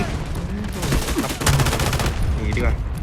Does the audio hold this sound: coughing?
no